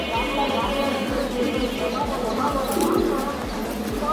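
A male Ambassia pigeon coos in a steady, repeated rhythmic pattern close by, the pulsing calls continuing throughout while someone talks over them.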